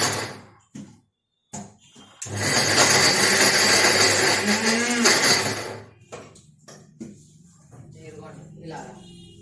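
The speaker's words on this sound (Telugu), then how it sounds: "ఇవి కూడా ఒక నిమిషం అట్లా మిక్సీ పట్టేద్దాం" A Sujata mixer grinder whirs loudly for several seconds as it grinds dates, dry fruits and large figs, starting abruptly and cutting off, with clicks and a speaking voice before and after.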